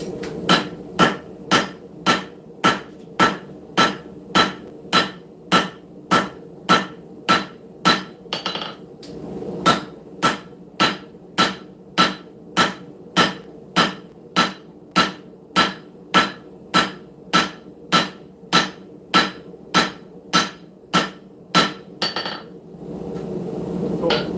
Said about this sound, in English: let's go ahead and start forging this bigger section out right here